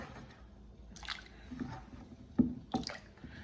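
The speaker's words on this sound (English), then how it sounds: "we're going to put them into our pot of water" Chopped potato pieces are dropped into a pot of water, making faint soft plops and splashes scattered irregularly across a few seconds in a quiet kitchen.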